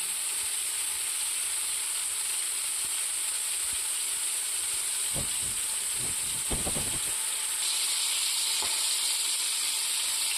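Chicken legs frying in coconut oil give a steady close sizzle and hiss, with a few sharp spattering pops clustered near the middle and one more later on; nobody speaks.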